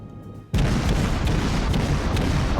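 A warship's guns unleash a salvo in the game World of Warships: after a quiet half-second, a sudden loud boom erupts and rolls on as a sustained, heavy roar of gunfire to the end, with no voices.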